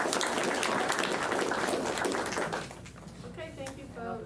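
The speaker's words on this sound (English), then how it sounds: "Another round of applause." Audience applause at a county commissioners court meeting, a dense wash of many hands clapping for about two and a half seconds, then thinning out into scattered claps and murmuring voices.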